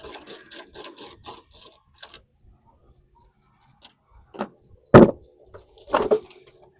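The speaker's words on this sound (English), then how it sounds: "I got an 11 millimeter socket here. We're going to take these loose." An 11 millimeter socket wrench loosens bolts on the engine of a 2008 Buick Super, giving a quick run of close ratcheting clicks followed by a pause and then a few scattered knocks and scrapes of metal.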